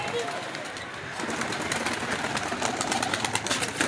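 Pigeons on a rooftop make soft cooing and rustling sounds, with a constant background hum and people talking throughout.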